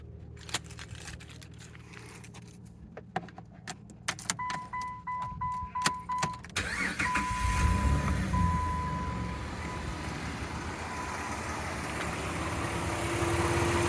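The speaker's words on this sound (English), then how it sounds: "So let's start the vehicle." A Jeep Liberty being started: keys jangle and click, a chime beeps, then the engine cranks and catches into a steady rumbling idle, close by with no talk.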